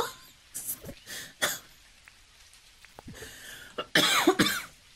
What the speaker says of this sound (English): Made me laugh so hard I start coughing.